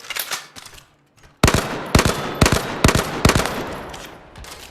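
Rifle gunfire in a VR shooter game: a few faint shots, a short pause, then five loud evenly spaced bursts of gunfire close up, each with a short ringing tail.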